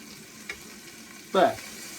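Yogurt-marinated chicken with ginger, garlic and spices browns in a pan for chicken tikka masala. A low, quiet sizzle runs throughout, broken by one short, louder burst of frying or stirring.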